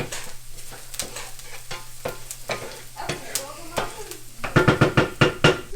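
Onions frying and burning in a pan give a steady sizzle broken by repeated spatula scrapes and knocks, growing busier toward the end.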